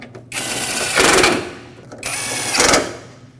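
Bolts on a Nissan Frontier 2.5L L4 radiator support being tightened with a power tool: two close, loud bursts of whirring, rattling mechanical drive, each about a second long, separated by a short pause.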